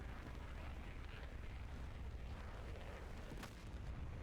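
A warship, the destroyer Burke, is hit in the DCS World combat game. The result is a sustained, dense roar of explosion rumble with a heavy low end that holds steady throughout, with no voices.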